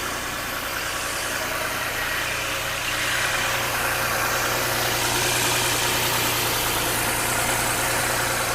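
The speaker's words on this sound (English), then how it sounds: "The car runs good now." A 2011 Porsche Cayenne with a 3.6 VR6 engine idles close by, giving a continuous, even rumble with a steady hum and a slight rise in level midway through.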